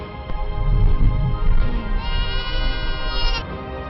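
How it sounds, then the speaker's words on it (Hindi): A flock of about 125 goats and sheep in Ladakh bleats loudly and close by, overlapping calls rising and falling over one another without pause. "125 के करीब बकरियां और भेड़ें"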